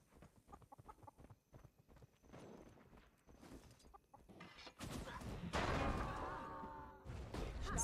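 Chickens cluck in short bursts, followed by louder overlapping squawks and clucks toward the end, with no talking, in the video game Guild Wars 2.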